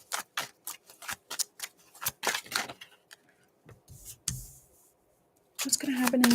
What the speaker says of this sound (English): Feel free to fast forward if you don't like to watch the shuffle